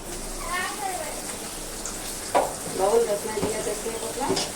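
Vegetables fry with salt in a pan, a soft continuous sizzle with stirring, partly under talking, and a cat-like meowing voice briefly rising over it.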